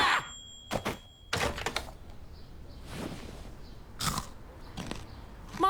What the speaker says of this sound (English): Microwave chips with maximum crunch.